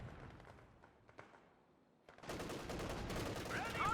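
Gunfire in Company of Heroes 2 on the Lienne Forest map during a 3v3 match, faint scattered shots that give way to a louder sustained burst of rattling fire in the second half, with a caster talking over it.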